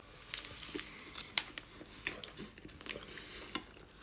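A soft Crumbl fruit pizza cookie, a sugar cookie, is bitten and chewed up close: crisp, irregular crunches and moist mastication clicks come in quick, uneven bursts against near silence.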